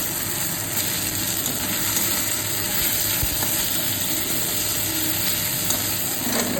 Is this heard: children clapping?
no